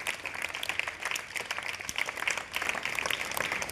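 Crowd at a public gathering claps and applauds continuously, a dense patter of many hands rising and falling in waves throughout.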